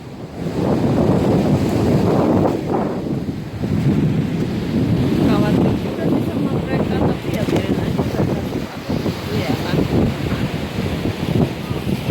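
Continuous rushing surf with steady wind noise across the whole stretch at Penguin Island, waves washing in loudly and close against large rocks, with faint voices mixed in at times.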